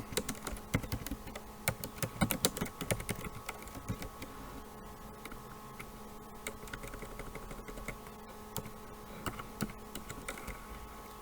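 Someone types a letter address on a computer keyboard in a word processor, a steady run of quiet, close key clicks over a low electrical hum, busier at first and then sparser.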